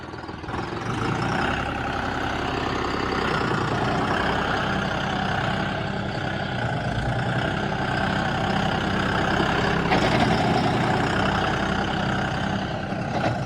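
A tractor engine fitted with a synchro-shuttle gearbox runs close by, holding a steady heavy diesel drone with a slight rise in revs partway through, and no voices are heard.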